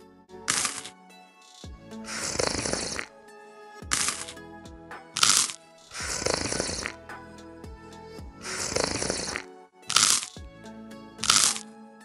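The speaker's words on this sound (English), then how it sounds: "I made myself a toast and a cup of tea, so I'm just gonna eat it all up" Loud, close crunching of toast being eaten eagerly, with bursts of crisp bites and chewing repeating in uneven clusters over about twelve seconds, no talking.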